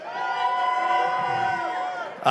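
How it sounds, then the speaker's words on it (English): Crowd of boxing fans cheering and shouting at the Canelo vs Berlanga fight-week grand arrivals, a steady loud roar of voices with a sharper burst at the very end. "if you're here to support Edgar Berlanga, make some noise."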